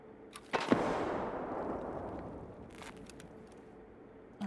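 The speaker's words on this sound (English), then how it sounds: "I'm gonna throw a grenade if I can in there" Grenade blast in the Escape From Tarkov game: a sharp burst followed by a long, rumbling decay that fades over several seconds, heard alone without talk.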